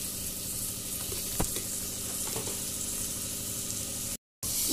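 Drumstick and potato curry with turmeric, chilli and spices sizzling steadily in a pan, a continuous close frying hiss with a few faint stirring clicks and no talk.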